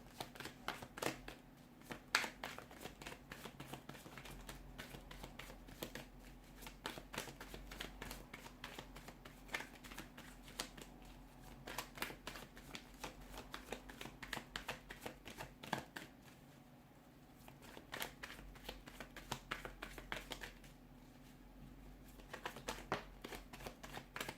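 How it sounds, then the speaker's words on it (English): A deck of tarot cards is shuffled over and over for a long stretch, with soft, quick riffling and tapping in a quiet room and no voices. "let's give the cards a shuffle"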